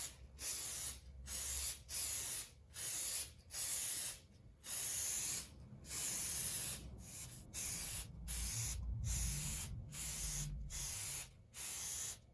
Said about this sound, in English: This is to spray along each pleat about 3 inches from the can.